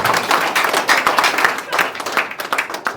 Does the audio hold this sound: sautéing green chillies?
no